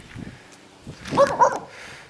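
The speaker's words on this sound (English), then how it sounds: "This dog don't like me." A wary dog near a diesel Mercedes-Benz 240D W123 sedan gives a couple of close, sharp barks mixed with a short whine, loud against quiet surroundings.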